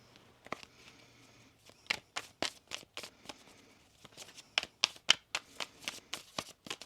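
Tarot cards are riffled and shuffled in quick bursts, a series of crisp flapping snaps close by with short pauses between.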